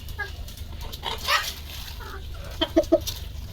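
Native country chickens on a farm give a few short clucks, with a quick cluster of calls near the end over a low background hum. No talking is heard.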